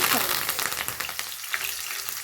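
Garlic crackles and sizzles as it hits hot oil in a pan, a steady close frying hiss with small pops throughout, no talking.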